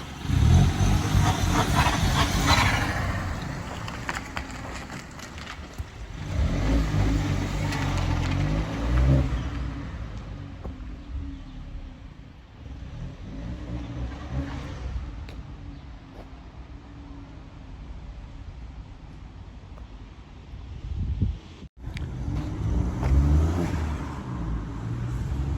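A Mini car with freshly rebuilt suspension and wheel alignment drives off, its engine revving loudly at first, then settling into a steady mid-pitched hum with changing road noise, rising again near the end.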